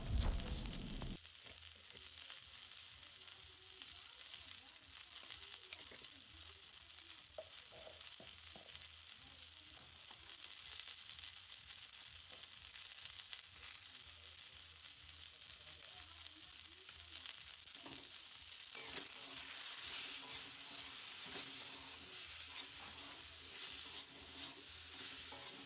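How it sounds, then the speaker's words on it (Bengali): Saag sizzles in a kadhai with turmeric, cumin powder, chili powder and salt, making a continuous soft frying hiss with faint stirring scrapes throughout, fairly quiet and with no talking. "এবার আমরা দিয়ে দেবো পরিমাণ মতন হলুদ এবং জিরে গুঁড়ো এবং লঙ্কা গুঁড়ো এবং লবণ দিয়ে এটাকে ভালো করে"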